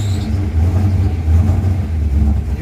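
A pickup truck's engine runs steadily after being started following repairs for a fuel delivery problem, a loud, continuous low rumble with slight fluctuations in speed throughout, alone with no talk.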